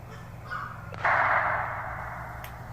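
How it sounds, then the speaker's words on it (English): A single sharp rifle shot from a small-caliber .22 rings out faintly in the distance over a swamp and woods, followed by a lingering hiss of background noise. "I'm pretty sure somebody was shooting a 22 or something into the swamp."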